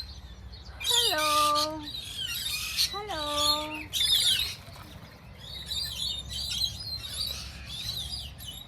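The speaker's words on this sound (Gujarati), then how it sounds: "સો આ હતા પોપટ ઓસ્ટ્રેલિયાના." Australian parrots at a wildlife park screech in loud, close bursts, two long swooping squawks followed by quicker chattering calls over steady background noise.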